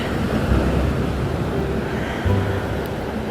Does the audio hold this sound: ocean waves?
yes